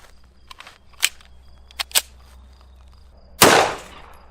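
A 9mm Speer Gold Dot 124 grain +P round is fired into clear ballistics gelatin, producing one loud, sharp report with a short decaying tail. A few quiet clicks and handling knocks come before the shot.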